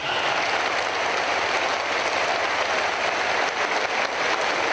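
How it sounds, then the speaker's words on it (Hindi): Standing ovation from a large audience at a Pakistani gathering, a thick, unbroken roar of clapping, loud and constant, like heavy rain, with no voices breaking through. "भरपूर तालियां।"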